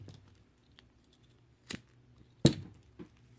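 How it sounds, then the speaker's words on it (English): Scissors snipping the end of a bead string while making a ladder kandi cuff: a couple of sharp, close metallic snips separated by quiet pauses, with faint handling taps between them. "then you can cut the little piece off"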